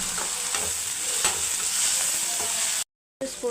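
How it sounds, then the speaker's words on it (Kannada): Onions and tomatoes fry in a pan for bitter gourd palya, with a loud, continuous close sizzle and light stirring scrapes; the sound cuts out briefly near the end, then resumes. "ಟೊಮೊಟೊ ಹಾಕ್ತಾಯಿದ್ದೀನಿ. ಈರುಳ್ಳಿ ಚೆನ್ನಾಗಿ ಫ್ರೈ ಆಗಿದೆ."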